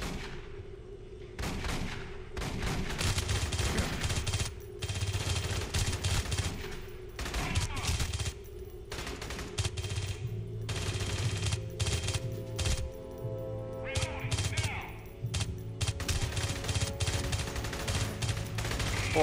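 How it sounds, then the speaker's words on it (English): Dense, sustained gunfire from Aliens: Colonial Marines, with rapid bursts of shots running loud and nearly continuous throughout, briefly thinning now and then before resuming. "either these guns really suck, or this gun needs to be recalibrated properly"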